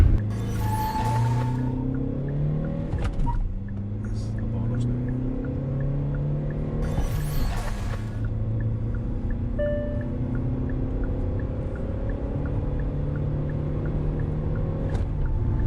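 A Hyundai Alcazar diesel SUV with a manual gearbox accelerates hard from standstill to 120, its engine note droning steadily and rising through the gears, with brief bursts of wind and road noise and no talking.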